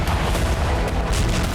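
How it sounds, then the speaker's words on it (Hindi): A loud, sustained roar of a large blast fills the clip, dense rumbling and crackling with no quiet gaps. "जोरदार ब्लास्ट के साथ बारूद से सना आग का गुबार आसमान में उठता दिखाई दिया"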